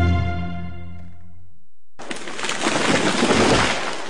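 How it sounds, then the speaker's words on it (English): A tree comes down: a fading, ringing tonal sound gives way after a short silence to a loud, sustained burst of crashing, rustling noise. "That was the sound of a tree falling."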